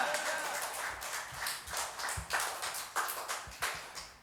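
A church youth congregation claps in praise during a Sunday worship service, a moderately quiet patter of many hands with irregular bursts of sharper, louder claps.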